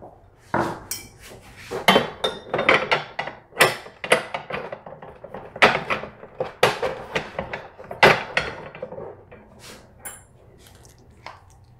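A metal VESA adapter plate slides onto a TV mount's vertical rail, giving a run of sharp metallic clanks and scrapes with irregular knocks, close and fairly loud, with no talking.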